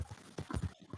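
A horse's hooves clip-clop in Red Dead Redemption 2, a short run of quick, faint hoofbeats in an uneven gallop-like rhythm with no talk.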